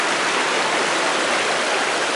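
Water rushes over rocks in a stream along a hiking trail near a waterfall, a loud, steady broadband hiss with no pauses, close to the listener.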